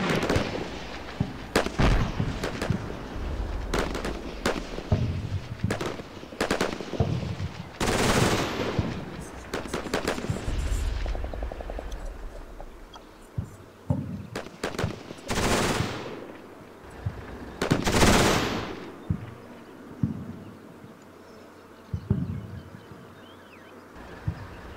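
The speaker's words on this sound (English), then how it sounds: "a section of special forces that are firing at my maneuvering forces" Bursts of automatic gunfire and explosions from the combat game Combat Mission Shock Force, with special forces firing on maneuvering troops: rapid volleys, single loud cracks and booming blasts, loud and dense with no speech.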